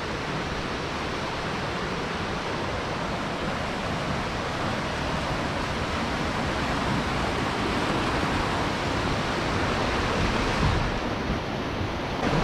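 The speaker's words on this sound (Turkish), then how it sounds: "şelaleye geldik. Su Düşen Şelalesi." The Su Düşen waterfall in Turkey gives a steady, dense roar of falling water. It is loud and unbroken throughout, with no voices.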